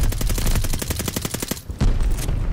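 Rapid automatic gunfire in Call of Duty: Vanguard, a loud burst of about fifteen evenly spaced shots, then a brief pause and a few more heavy shots.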